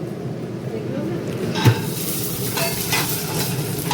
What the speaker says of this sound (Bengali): তো ফাইনালি বাদামটাও এতেই ভাজা হচ্ছে